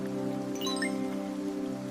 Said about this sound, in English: One tiny raindrop, so small.